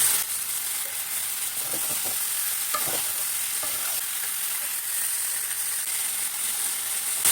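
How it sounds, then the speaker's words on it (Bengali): Steady sizzling and frying of potatoes and meat with onions, with occasional stirring scrapes, close and continuous, no voices. "পেঁয়াজের সঙ্গে আলু আর মাংস ভাজা ভাজা হয়ে গেছে"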